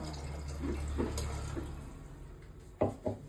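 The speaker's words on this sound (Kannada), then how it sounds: "ಇವಾಗ ನೀರು ಹಾಕ್ತಾ ಇದ್ದೀನಿ" Water pours from a tap onto chicken in a pot for biryani, a steady splashing gush with a couple of sharper splashes near the end.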